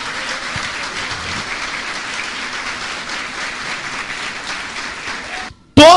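A church congregation claps in sustained, dense applause for about five seconds, then it stops abruptly and a loud, brief sound cuts in at the end.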